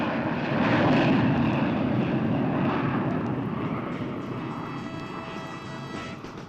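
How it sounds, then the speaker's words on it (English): Concorde passes overhead with a loud, continuous roar that is strongest early on and slowly fades as it moves away. "Concorde zoomed across the Atlantic from Washington to Paris"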